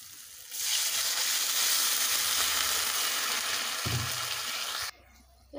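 Water poured onto spices fried in oil for a Bengali tel koi fish curry, a loud rushing sizzle that flares up suddenly, holds for several seconds, then drops away abruptly.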